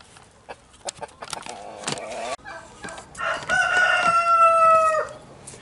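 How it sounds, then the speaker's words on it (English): Chickens and a rooster in a £110 eBay chicken coop, with scattered clucks and scratching early, then a loud, close rooster crow that rings out in a long rising call near the end. "let the birds get used to it"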